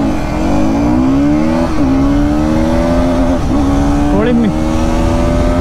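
A KTM Duke 200 and a 2024 Pulsar NS200 accelerate side by side in a drag race, their loud engine drone climbing in pitch through several gear shifts while a person talks over it.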